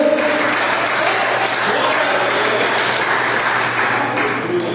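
A church congregation applauds during a service, a loud sustained clapping that stays even throughout, with steady tones from the room's sound system underneath.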